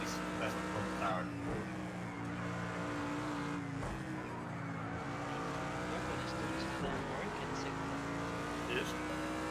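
A Mercedes AMG GT3 race car at Imola in Project Cars 2 holds a steady, droning engine note with rising and falling pitch through gear changes, accompanied by brief tire squeals, loud and constant throughout.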